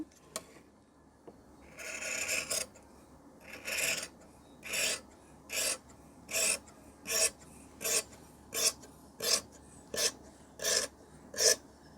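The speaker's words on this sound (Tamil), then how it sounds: "இப்போ கையை அப்படியே கட் பண்ணிடலாம்" Scissors cut through a shirt sleeve while a 50-inch chest shirt is being tailored. After a couple of longer strokes, about a dozen crisp snips follow in a steady, even rhythm, close and clear with no talking.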